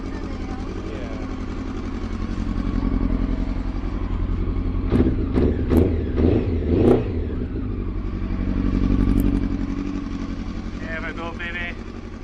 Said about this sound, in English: I just couldn't help myself, not with the bike started.